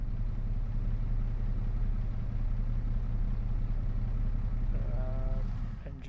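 A Massey Ferguson tractor in Farming Simulator 25 idles with a steady, low, droning engine rumble, loud and even throughout, then winds down near the end as the engine shuts off.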